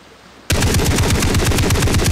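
Machine gun fire in the video game Far Cry 3 cuts in abruptly and loud, a rapid, evenly spaced stream of shots that continues without a break, with no talking.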